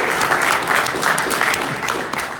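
A boxing press conference audience breaks into steady, dense applause that swells and dips in waves, close and fairly loud throughout, with no one speaking over it.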